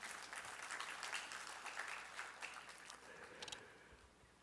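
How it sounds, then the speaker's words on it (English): Applause from attendees at a regional health authority public board meeting, a faint, steady patter of clapping heard from a distance that thins out toward the end. "Please, a round of applause for"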